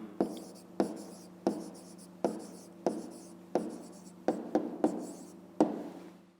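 A pen scratches out an answer by hand on paper in a series of about ten short, close strokes, each a crisp scrape fading quickly, quiet and alone without talk.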